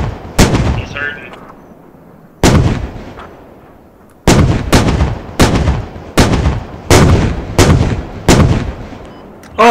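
A Warrior IFV cannon fires in the Squad video game, sounding as loud, sharp booming shots: a few spaced rounds, then a rapid, regular string of blasts with ringing tails.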